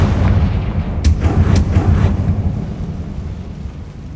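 A Confringo fire blast spell explodes in the Hogwarts Legacy video game, giving a dense, rumbling boom with sharp crackling bursts near the start, then a long, loud roar that slowly fades and settles.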